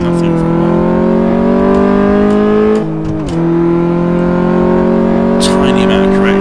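A car engine in a quarter-mile drag race on a simulator game revs hard and accelerates, its pitch climbing steadily, dropping briefly at a gear shift, then climbing again, loud and close.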